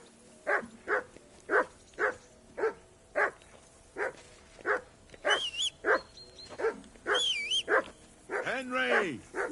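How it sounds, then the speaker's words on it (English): A dog in the medieval video game Kingdom Come Deliverance 2 barks repeatedly in a steady, evenly spaced rhythm, close and loud, with whistle-like tones and a whimpering yelp near the end. "Whistle at that mutt of yours to stop barking."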